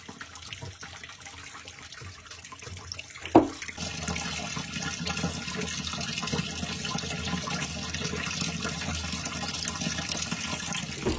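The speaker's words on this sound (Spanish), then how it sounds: "ya se le bajó toda la agua" Water rushing down a freshly unclogged household drain after a plumbing job, a steady close gurgling flow that starts with a sharp splash partway in and continues loud and even to the end.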